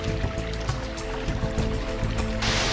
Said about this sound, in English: a good amount of water flowing. Well, must be a little waterfall down here.